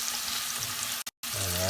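Slices of Spam sizzling in a frying pan, a steady close hiss that cuts out briefly mid-way, presumably as they are flipped, then resumes with a faint hum.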